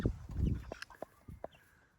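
Broiler chickens, well feathered and relaxed, cluck in a series of short, close calls with a low rustling murmur early on, sounding alone without any talk.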